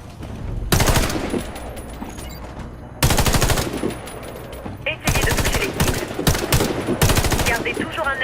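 Automatic rifle fire at practice targets in the shooter game Warface, several loud rapid bursts of shots separated by short pauses, close and sharp over a low background hum.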